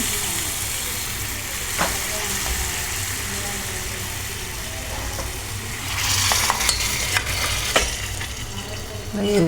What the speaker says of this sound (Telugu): వేయించుకోవాలన్నమాట, రెడ్గా వచ్చిన వరకు.